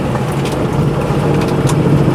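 A four-wheel drive car with a load on the back drives uphill, its engine giving a loud steady drone of strain, with rumbling road and wind noise close by.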